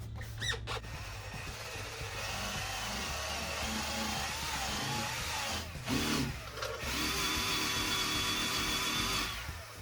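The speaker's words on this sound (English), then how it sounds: "Milwaukee buffer. This thing is awesome for little small scuff and buff jobs." A steady whir from a Milwaukee power buffer runs almost nonstop, grinding paint transfer off a Ford Expedition's body, with a short dip midway before it resumes at full strength.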